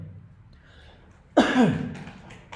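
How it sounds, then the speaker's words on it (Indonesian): A single close cough bursts out after a stretch of quiet room tone, followed by a brief rough trailing sound like throat clearing. "agak batuk-batuk dikit ya"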